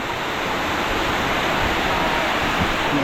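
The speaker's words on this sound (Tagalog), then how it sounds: "Welcome to Bantakay Falls" Bantakay Falls roars as a constant, dense rush of falling water, loud and unbroken throughout with no pauses.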